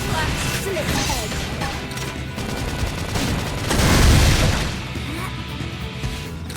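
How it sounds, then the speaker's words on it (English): A flame grenade bursts in the Xenoblade Chronicles X video game, a heavy booming blast swelling for about a second amid a dense clatter of battle effects and crashing hits. "So I'm allowed to go all out? Flame grenade!"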